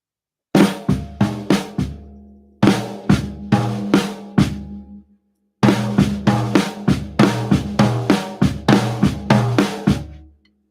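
A drum kit plays a five-note stutter rudiment pattern, close and loud, in three separate bursts of quick repeated strokes with short silent gaps between them.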